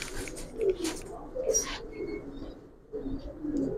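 Close, soft cooing from Giribaz and colour-breed pigeons in a loft rises and falls in repeated low phrases, with faint rustling and brief higher chirps mixed in.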